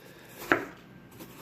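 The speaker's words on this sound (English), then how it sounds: "You just cut it in slices." A knife cuts through a quarter of a watermelon, slicing it into pieces, giving a single crisp chop against the board, close and clear in an otherwise quiet space.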